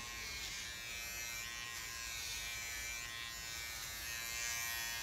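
An electric razor buzzes steadily and close up while it cuts hair during an ASMR haircut, a continuous droning hum with no talking.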